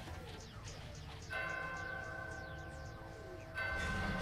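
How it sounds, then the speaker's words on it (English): A bell in the Danganronpa game tolls, church-like, in two strikes, each leaving a long ringing tail that fades out, over a low background hum. "Let's just fucking ring the bell."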